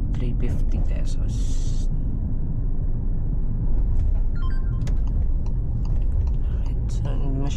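A Ford Territory driving on a road in Cavite toward Dasmariñas: steady low road and engine rumble heard from inside the cabin, with occasional small clicks and taps and some talking over it.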